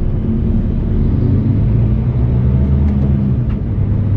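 Mercedes-Benz Arocs 2536 truck engine revving up with a loud, steady low rumble that holds throughout, close to the cab with no talk over it.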